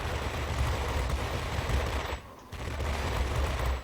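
Guns on a BV P.210 multi-role heavy fighter fire in World of Warplanes: loud, sustained machine-gun rattle in bursts, breaking off briefly and then resuming.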